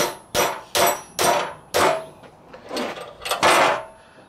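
A hammer taps a part clamped in a vise to seat it snugly, about seven sharp separate knocks at an uneven rhythm, close and loud, with no talk.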